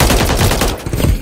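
Loud, close automatic gunfire from a weapon in Call of Duty: Modern Warfare 3, a fast string of sharp shots that cuts off near the end of a very brief burst.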